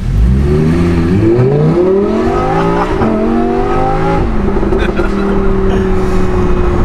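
A Lamborghini Performante accelerates hard, its engine note climbing steadily through the gears with brief shifts before settling into a high steady drone, loud and close from inside the car.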